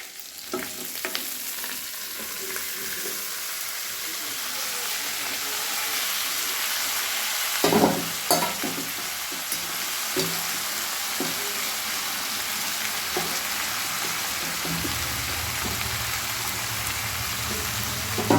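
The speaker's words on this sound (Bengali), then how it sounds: "এবারে আমি বাঁধাকপিগুলো দিয়ে দেব।" Shredded cabbage frying in mustard oil with black mustard seeds, a loud continuous sizzle and crackle up close, with a sharp burst as the cabbage hits the hot oil and occasional stirring scrapes.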